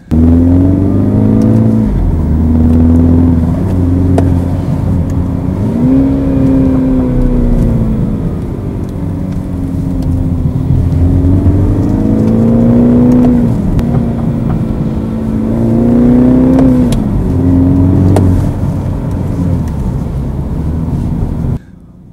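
A small MINI SUV's turbocharged engine revving hard in sport mode through repeated climbs in pitch as gears shift, a loud steady drone with turbo whine, recorded from inside the vehicle.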